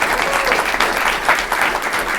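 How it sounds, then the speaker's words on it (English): A crowd applauds as a new varsity football coach is introduced at a Hendrick Hudson school meeting, steady loud clapping filling the room for a couple of seconds. "give him a round of applause"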